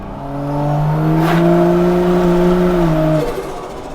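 Turbo Barra-engined restomod Toyota Land Cruiser FJ45 revving hard on the throttle, a loud, close engine note rising and holding for a few seconds, then cutting off sharply.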